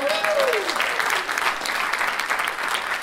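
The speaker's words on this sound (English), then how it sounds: "Round of applause," Keynote audience applauding throughout, a dense steady wash of clapping from a large crowd that stays loud and even to the end, with a brief rising voice-like tone near the start.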